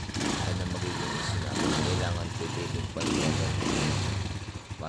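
A motorcycle engine runs loudly and steadily up close, a throaty rumbling idle with slight surges, continuous throughout.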